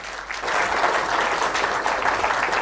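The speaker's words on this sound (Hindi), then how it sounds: "जोरदार तालियों से स्वागत करेंगे" An audience breaks into steady, enthusiastic applause that swells quickly and continues, a dense wash of clapping from many hands.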